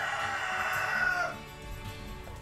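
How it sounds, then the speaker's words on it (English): Free-range hens on an organic farm with dairy cattle and sows cluck and cackle close by, one loud drawn-out call followed by softer clucking and farmyard background. "she also keeps 100 hens in free-range husbandry"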